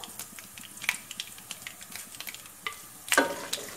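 Fenugreek and mustard seeds sizzle in hot oil for a matar curry, a close crackling fry with quick stirring taps and a louder burst near the end.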